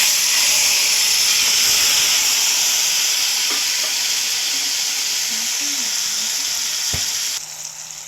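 Tomatoes hit two spoons of hot oil for a peanut chutney, setting off a loud, steady, close sizzle with a few faint clinks. The sizzle drops sharply near the end.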